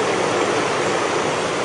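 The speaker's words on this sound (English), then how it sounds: "the sound of the mighty Susquehanna roaring" The swollen Susquehanna River in flood roars as a dense, continuous rush of churning water, loud and steady with no pauses and no voices.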